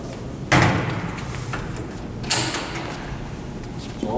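A Vanguard LHQ2X2 light-duty welding manipulator starts up with two sharp mechanical clunks about two seconds apart, each followed by a fading rattle over a low background hum.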